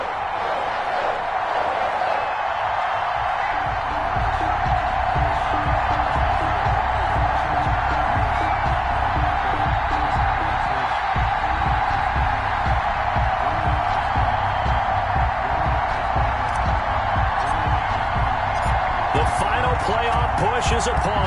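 A sold-out stadium crowd roars steadily in an EA Sports NFL video game ahead of the Patriots facing the Arizona Cardinals, a loud continuous wash of cheering with a commentator talking over it.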